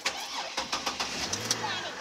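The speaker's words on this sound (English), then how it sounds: "When I start the truck, we should have enough." A truck engine cranks with repeated rhythmic starter bursts, then catches and settles into a low idle near the end, while voices are heard over it.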